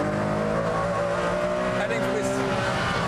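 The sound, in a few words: Ferrari Enzo accelerating out of a corner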